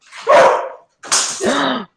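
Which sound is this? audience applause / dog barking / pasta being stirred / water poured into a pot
dog barking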